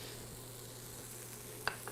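Meat and food sizzle steadily on a tabletop yakiniku barbecue grill, a continuous close frying hiss with a couple of brief clinks near the end and no talking.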